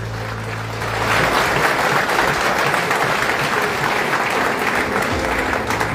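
An audience at a political talk breaks into applause after a speech ends. The clapping swells after a faint, low tone and stays dense and steady for several seconds.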